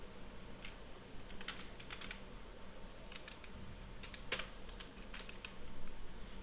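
Commands are typed on a computer keyboard as soft, quiet key clicks in irregular short runs, with one sharper keystroke like a press of enter, over a steady low background hum.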